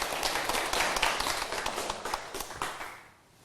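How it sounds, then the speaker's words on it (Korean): Audience clapping at a Buddhist dharma talk, a burst of crisp individual claps from a small crowd that thins out and fades near the end. "박수를 한번 주세요"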